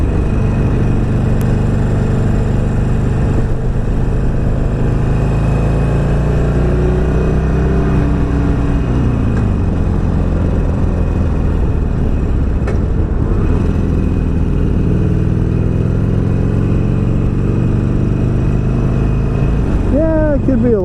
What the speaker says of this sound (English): Noisy little motor. Little. It's 1200 cc's.